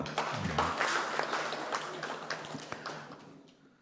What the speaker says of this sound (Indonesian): tepuk tangan untuk BCA